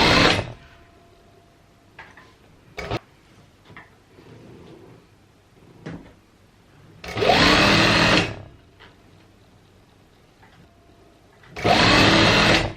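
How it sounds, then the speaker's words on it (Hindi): A sewing machine stitches along the side of an ironing board cover, running in two loud, steady bursts of about a second and a half each, separated by quieter handling clicks and rustles. "पहले तो मैं इसकी ऐसी एक साइड की सिलाई लगा दूँगी ताकि ये नीट हो जाए।"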